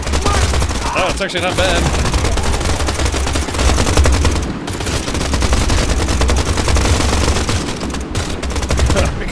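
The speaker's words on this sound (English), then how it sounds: "Let's try the new pistol." Pistol shots in the video game Pioner ring out in a fast, loud, continuous series, with a person speaking briefly over the firing.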